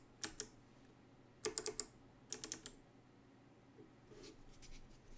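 Mechanical keyboard switches with a rattly, dielectric-greased feel clack in three quick bursts of several keystrokes each, close and crisp, followed by a softer, sparser run of taps near the end, with no talking.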